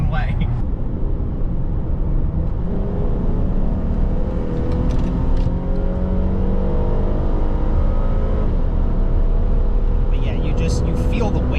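A 2009 Honda Accord V6 EX-L sedan pulls hard through a turn from the driver's seat, its engine droning loudly and continuously as it climbs through the revs, with people talking inside the cabin.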